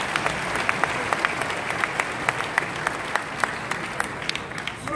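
Audience applause at a Nigerian Bar Association conference in Lagos: steady, fairly dense clapping from a large crowd, sustained throughout with individual sharp claps standing out.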